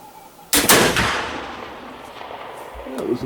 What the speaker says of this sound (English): That was a bit of a hang fire.